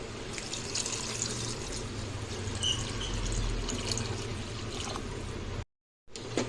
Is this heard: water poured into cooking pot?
yes